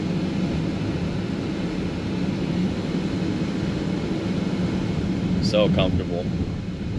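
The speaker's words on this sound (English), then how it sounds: "The extra noise is kind of the HVAC system in the back blowing. Those fans are on high" Steady broadband rush of the rear HVAC fans blowing on high inside a 2022 BMW X5 on the move, constant and fairly loud throughout, with a brief spoken remark over it near the end.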